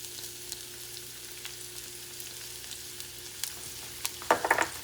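Chopped onions hit a hot pan for a cod pionono filling, a faint background sizzle punctuated by scattered clicks before a sharp burst of crackling frying near the end.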